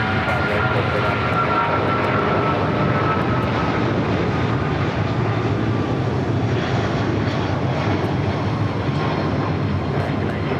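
A Boeing 777 jet departs LAX with a loud, sustained engine roar that fills the whole stretch, broadband and steady with no pauses.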